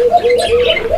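Several pigeons coo close by, a soft low repeated warble in short rising phrases, loud and clear with no voices.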